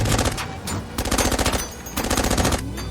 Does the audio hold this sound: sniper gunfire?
yes